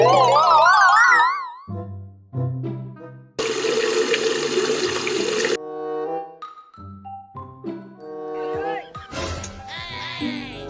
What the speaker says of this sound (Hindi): सिर्फ एक बाल्टी पानी की डालो।